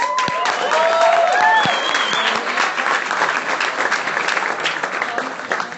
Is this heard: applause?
yes